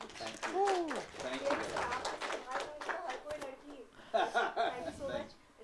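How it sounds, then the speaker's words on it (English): An audience claps at a film press meet while voices keep talking over it. The claps are a loose run of sharp hand claps, mixed with chatter rather than standing alone. "Can you please clap?"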